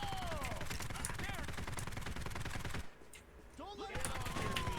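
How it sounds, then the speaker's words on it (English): Rapid machine gun turret fire in the shooter Postal Redux, dense repeated shots with other game effects, briefly dropping out before resuming loud and close. "One of them is a machine gun turret"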